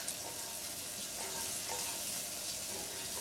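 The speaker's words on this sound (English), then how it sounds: "It does not take garlic long to saute and fry up, so we'll get that going there real fast." Garlic cloves and jarred jalapeño sauté in a pan at a campsite, giving a continuous, fairly faint, even sizzle with no break.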